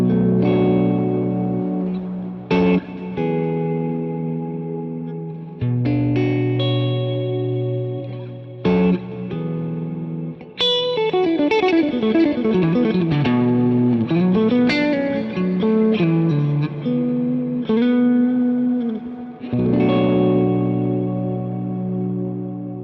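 Clean electric guitar through channel 1 of a Suhr PT15 IR amp with reverb and delay, playing sustained chords and quick melodic runs with ringing echoes and tails.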